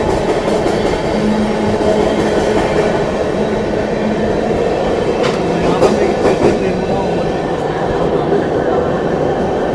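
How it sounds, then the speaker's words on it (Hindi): A Rajdhani Express train runs at speed while overtaking the Patna Anand Vihar special train, giving a steady loud rumble with rhythmic clicking of wheels over rail joints and a brief metallic burst in the middle. "पटना आनंद विहार स्पेशल ट्रेन को हम लोग ओवरटेक कर रहे हैं टुंडला जंक्शन के स्किप के साथ।"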